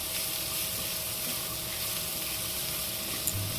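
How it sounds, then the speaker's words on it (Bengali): Capsicum, cabbage and other vegetables for street-style chicken chow mein, salted, stir-fry on a high flame with a steady, dense, close sizzle that keeps up without a break. "এখন আমরা হাই ফ্লেমে সবজিগুলোকে ভেজে নিচ্ছি।"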